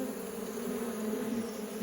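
A honeybee beats its wings at the entrance of a full-size hive, giving a steady close buzzing drone that holds without pause, with no voices.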